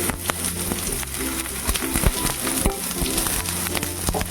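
Pointed gourd pieces and a little turmeric go into a hot pan of oil for potol vorta. The result is a loud, continuous sizzle broken by sharp clinks and scrapes of stirring.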